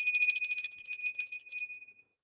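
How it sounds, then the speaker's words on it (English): A bell rings at the start of a live tarot reading, a bright, high shimmering ring that pulses rapidly and then fades away cleanly into silence after about two seconds. "ring the bell and bring in the ever lovely Wispy"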